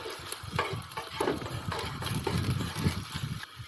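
Chili, ginger and garlic frying in a pan while being stirred: a constant close sizzle with irregular scraping stir strokes throughout, fairly loud and without talk.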